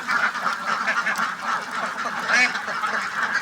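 Penned farm ducks quack busily in a dense, continuous chorus while they are fed, with overlapping nasal calls heard nearby.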